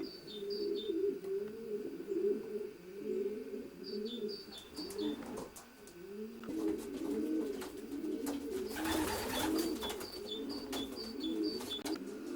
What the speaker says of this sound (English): And these pigeons in this section are mostly yearlings, and these are now paired up.